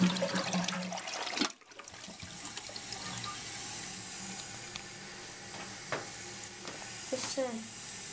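A 2000 Briggs Classic Vacuity toilet flushes with a sharp sudden whoosh, then water hisses and trickles steadily as the tank refills, with a few faint clicks and gurgles near the end.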